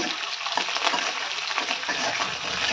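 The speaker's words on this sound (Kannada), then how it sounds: "ಚೆನ್ನಾಗಿ ಫ್ರೈ ಮಾಡ್ಕೋಬೇಕು" Green chillies, curry leaves, cumin and urad and chana dal frying in oil, a dense, even crackling sizzle that carries on steadily, close and moderately loud.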